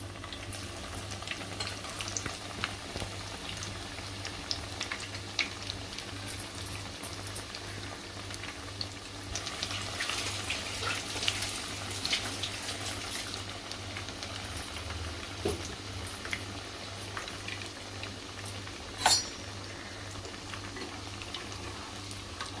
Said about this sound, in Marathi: आपण चांगले खरपूस रंगावर तळून घेऊया